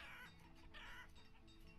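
Chickens cluck softly in the village-building game Banished, a few faint, low-level clucks and bursts of fowl chatter close together over quiet game ambience.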